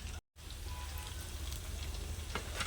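Chicken pieces for pickle fry in oil until reddened, giving a continuous crackling sizzle that stays close and even after a brief cut to silence at the start, with no talking.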